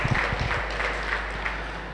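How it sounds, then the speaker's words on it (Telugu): An audience claps at a ceremony at a pyramid meditation centre in Peravaram. Scattered, moderately loud applause rises over a steady low hum, fairly near and without speech. "ఒకసారి మనం క్లాప్స్ కొట్టుకుందాం."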